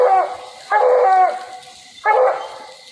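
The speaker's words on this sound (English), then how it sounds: "You hear you getting old Bigfoot treeing." A hunting dog treeing a raccoon gives three drawn-out, bawling barks with pauses between them, carrying from a short distance with a howling, baying tone.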